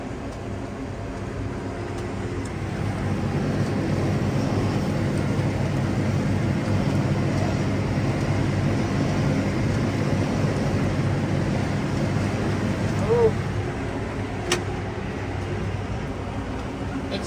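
A tractor hauling hay pulls hard up a steep hill at about 5.6 mph, giving a steady, labouring low engine drone that holds for the whole stretch at moderate volume.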